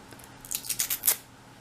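Scissors snip through stamped cardstock in a run of about five crisp, close cuts, quiet between strokes, with no talking.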